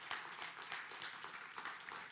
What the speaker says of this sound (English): Can we just give them a round of applause for being here this morning?